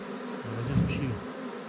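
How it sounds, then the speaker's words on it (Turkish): Bees buzzing at a mountain pasture village, a steady insect drone that swells louder near the middle and holds on for under two seconds. "Arılar kaçsın."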